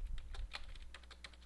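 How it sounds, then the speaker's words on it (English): A password is typed on a computer keyboard in quick, light key clicks, quiet and close, with a steady uneven rhythm and no voices. "If I type in the password correctly."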